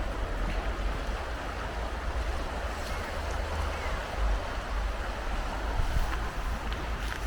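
The River Spey runs fast and full, heard as a steady, low, broad rush of moving water with some wind buffeting and no voices.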